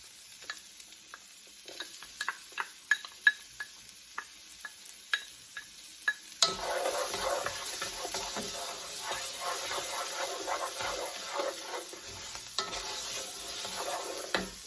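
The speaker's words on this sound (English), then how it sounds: "I'm going to put in my onions and my garlic." Onions and garlic hit a hot paella pan: a few scattered ticks and taps of preparation, then a sudden loud, continuous sizzle that holds steady to the end, close and without talk.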